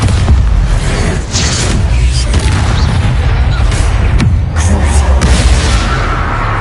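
Bombarda spell blasts in Hogwarts Legacy go off as loud booms and bangs over a busy, rumbling combat din, several hits spread through the stretch.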